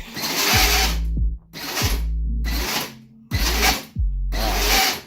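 Power Wheels ride-on toy car motor revving to full speed four times, each loud whining run cut off abruptly by braking, with a drop in pitch and short silent gaps between bursts, close up.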